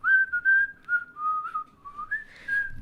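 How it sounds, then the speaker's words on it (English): A person whistles the gentle little tune from a Polo mints television advert, a single clear melodic line of sustained and sliding notes, close and alone without talk. "They used to whistle that tune."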